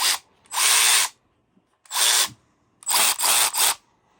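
A Milwaukee M12 Fuel brushless 3/8-inch cordless ratchet whirs in short bursts, three separate high-pitched runs, the last one stuttering, loud and close with quiet gaps between.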